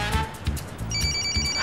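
A mobile phone ringtone plays a bright, repeating electronic melody, loud and close, with a rhythmic beat of tones looping through the short stretch and no talk over it.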